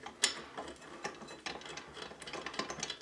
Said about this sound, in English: start by taking out the foot plate screw